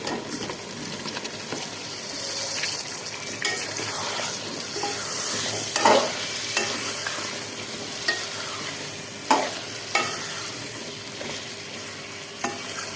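Cut potatoes fry in masala for aloo palak, with a dense, continuous sizzle and repeated scraping and knocking from a spoon stirring the pan, heard without speech.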